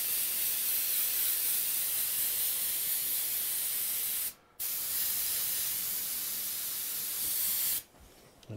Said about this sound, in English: is just lightly mist everything